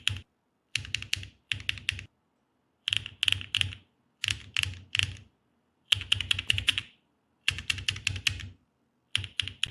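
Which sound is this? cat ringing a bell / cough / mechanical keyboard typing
mechanical keyboard typing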